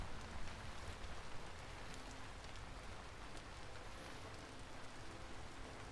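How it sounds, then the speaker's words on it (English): Steady rain hisses across the ground in the foggy forest world of Vintage Story, a soft, even patter that runs alone throughout without pause. "See if we can get out of this rainy, foggy stuff."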